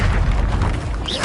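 In Hogwarts Legacy, a Confringo blasting spell goes off as a loud, close boom and then a lingering rumble, with no talk over it.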